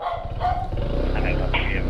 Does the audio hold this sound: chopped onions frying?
no